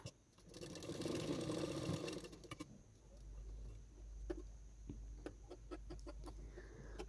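A sewing machine runs in a quick burst while stitching the hook strip on a prince-cut blouse, a close mechanical whir for about two seconds, followed by scattered clicks and soft handling noises in a quiet room.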